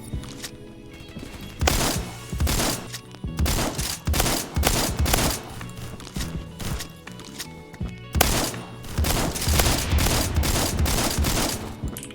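Rapid shotgun blasts from a high-capacity mini-shell shotgun in the video game Phantom Forces, loud repeated booming shots in quick bursts with short pauses between volleys.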